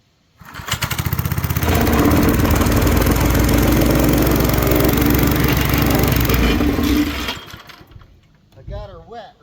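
A plate compactor's small engine starts and runs loud and steady for several seconds, then cuts out and winds down, leaving brief talk at the end.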